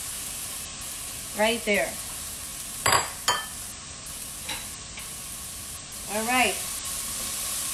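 Carrots, onions and bean sprouts sauté in a pan for a steak and shrimp stir-fry, with a soft steady sizzle, a few utensil clinks and stirring scrapes, and someone talking briefly.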